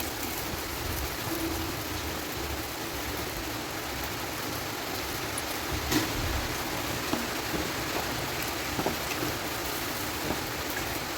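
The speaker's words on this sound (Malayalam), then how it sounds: "മഴയൊക്കെ വന്നിട്ടുണ്ട് മഴ" Steady rain hisses evenly throughout, with a few sharper drops tapping nearby and no voices.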